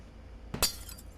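Yellow glass shatters in the horror video game Garten of BanBan: one sharp crash with bright tinkling shards that trail off over about half a second, heard alone over a low background hum.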